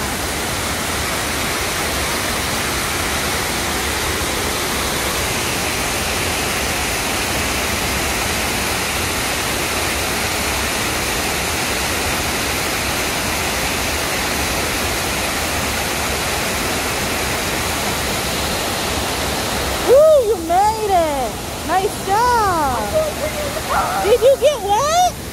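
Waterfall at the Franklin D Roosevelt memorial, a loud steady roar of falling water filling the whole stretch, with children's and adults' voices rising over it near the end.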